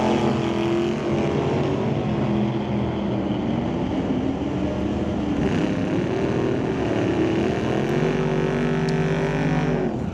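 A dragstrip test-and-tune run at Mission with a red and black 1927 Ford T Roadster and a green Cuda racing side by side, their engines a loud continuous roar that keeps up throughout.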